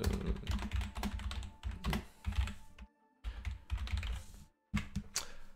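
Someone types a character backstory on a computer keyboard, a close run of quick key clicks in bursts with two brief pauses between them.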